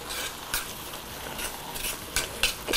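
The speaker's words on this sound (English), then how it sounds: "Give it a good stir." Food stirred in a pot during a prime rib Christmas dinner, a continuous low sizzle punctuated by several brisk scraping and clinking strokes of the spoon, close and moderately loud.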